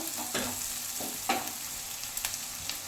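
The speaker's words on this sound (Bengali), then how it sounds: "তারপরে দেবো কাঁচা লঙ্কা দিয়ে আবার ভালো করে নেড়ে দিয়ে নেবো" Green chillies frying in a pan for butter chicken, with a steady close sizzle and a few sharp utensil scrapes as the mixture is stirred.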